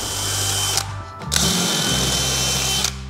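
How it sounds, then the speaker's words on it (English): A power drill with a 1/2-inch paddle bit whirs loudly up close, briefly dipping and restarting as it bores into a bedroom ceiling, then running steadily again. "I hate drilling holes in the ceiling."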